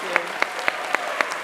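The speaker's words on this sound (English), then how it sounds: "Let's give them one big round of applause." An audience at an empowerment day event claps for panelists in a short burst of a few rhythmic claps, moderately close.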